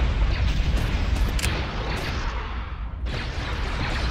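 Heavy starship weapons fire pounding a shield generator in the space strategy game Empire at War Remake: a dense, loud, continuous roar of booming blasts and rumbling impacts, with sharper bursts layered on top and no talking.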